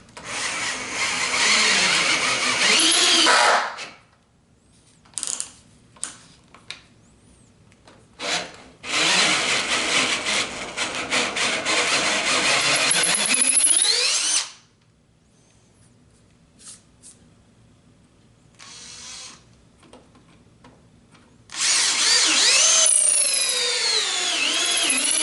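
A power drill fitted with a brad point bit bores into wood for a puzzle table in long loud whining runs, broken by pauses and a few short clicks, close up.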